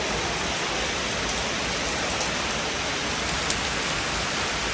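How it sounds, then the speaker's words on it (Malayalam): Heavy rain falls in Kerala during the monsoon, a dense, even hiss of rain on surfaces that holds steady throughout without voices. "നല്ല മഴയാ."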